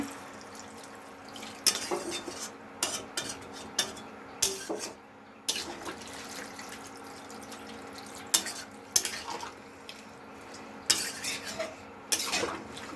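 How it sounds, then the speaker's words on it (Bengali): Echor (green jackfruit) curry is stirred in a pan with a metal utensil, giving repeated scraping clinks and clatters in an irregular rhythm over a low sizzle, close by and moderately loud. "ভালো করে নাড়াচাড়া করে নিচ্ছে।"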